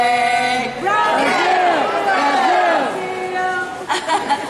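A crowd chants a rhythmic, sing-song "Ole, ole, ole, ole" football cheer together, loud and close, with scattered voices and chatter trailing off at the end.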